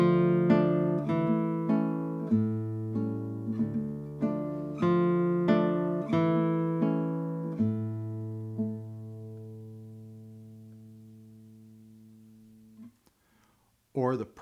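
Classical guitar plays a short phrase of Capricho Arabe, plucked notes and chords starting strong and fading gradually, with the final chord ringing out into near silence before a brief soft noise at the end.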